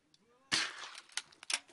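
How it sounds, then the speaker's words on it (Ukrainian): Sniper gunshots on the Donbas front line strike a scout's periscope tube: a few sharp, loud cracks about a second apart, with a faint voice beforehand. "Три постріли і три дірки в трубці розвідника"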